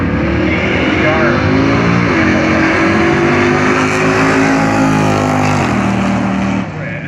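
Drag racing cars launch at a street-car event at Bradenton Motorsports Park, among them a silver 2002 Mustang, with loud, continuous engine roar and revving that rises across the run while an announcer talks over it.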